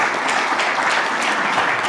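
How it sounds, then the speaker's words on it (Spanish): Audience applause at an international RENIEC seminar in Peru, a full, even roar of many people clapping at steady loudness throughout, with no talking over it. "Fuerte aplauso para ella."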